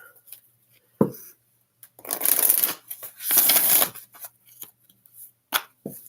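Tarot cards are shuffled in two long riffling bursts, with a few sharp taps and slaps between them in an otherwise quiet room.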